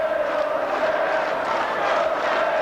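Rugby league crowd at Wigan's Central Park applauding Hull FC's 35–20 win from the east stand, a steady, dense wash of cheering and clapping held at an even level throughout.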